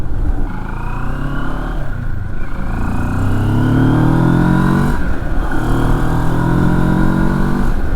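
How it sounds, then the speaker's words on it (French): A 2023 Moto Morini X Cape 650 motorcycle revving steadily, the engine note climbing and falling in smooth sweeps, loud and close, with airbox intake sound blending into the exhaust. "On a un petit bruit de boîte à air qui vient se joindre au bruit de l'échappement."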